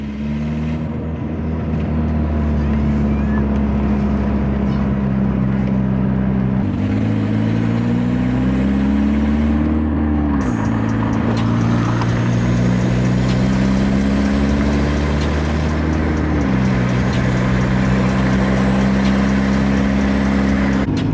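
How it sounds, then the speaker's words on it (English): Volkswagen Jetta engine running while driving, a loud steady drone that rises and falls as gears shift and the revs climb, heard from inside the car with no talk. "I'm just glad the car's on and we can drive it a little bit"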